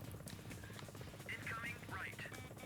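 A helicopter flies in a 1996 PlayStation helicopter sim by Core Design. Its faint, steady rotor drone sits low beneath a person talking over it.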